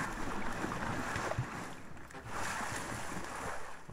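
Broad, rushing water splashing and churning from the god game From Dust, a steady surf-like wash that swells and eases over a few seconds with no voices.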